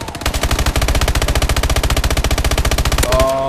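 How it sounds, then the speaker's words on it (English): Loud, close automatic gunfire rattles in a rapid, steady burst for about three seconds in Call of Duty: Advanced Warfare. It stops abruptly, and a short tonal game sound follows. "the sloppiest shooting I've ever seen has just been done by me just now"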